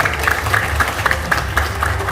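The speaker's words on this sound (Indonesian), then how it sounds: "terima kasih tepuk tangan yang sangat meriah untuk Bapak Didit Eko Ardianto" Seminar audience gives warm applause for a speaker, dense rapid clapping heard close and steady for a couple of seconds, with no talk over it.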